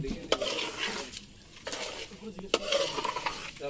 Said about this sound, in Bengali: পাতিলে অলরেডি চাল দেওয়া হয়ে গেছে। এই যে আমি একটু নাড়া দিলাম।